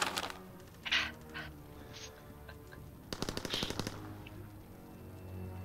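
Gunfire in the Call of Duty WWII video game: a few scattered shots early on, then a rapid automatic machine-gun burst, fairly close and sharp against a quiet background.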